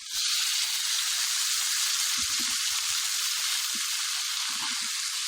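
Boiled cauliflower sizzles steadily in a hot frying pan, a continuous loud fry hiss with a few soft low clunks of stirring, no voices.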